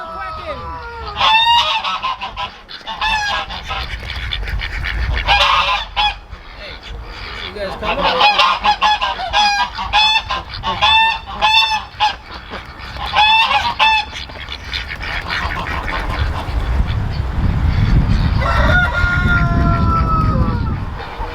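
Geese and ducks honk and quack loudly and repeatedly as they come out of a farm coop, calls overlapping in bursts with someone talking among them and a low rumble building near the end.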